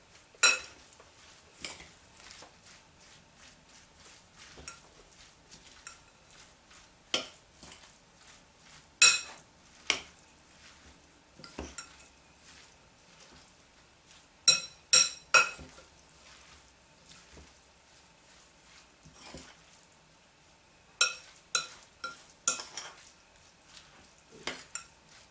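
Parsley and tomatoes being stirred and tossed in a bowl for tabouli, with scattered utensil clinks and scraping in irregular bursts, close and fairly quiet.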